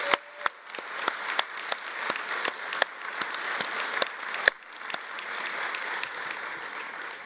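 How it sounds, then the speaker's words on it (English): A commencement audience applauds the platform party in steady clapping with a few louder sharp claps standing out, sustained through the whole stretch without voices. "Please join me in a round of applause for all the members of our platform party."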